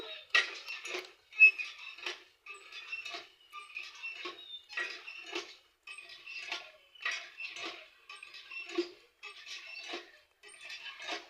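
A knife cuts through a fish in short, separate bursts of scraping and clicking against a hard surface, quiet and close, with brief silences between strokes.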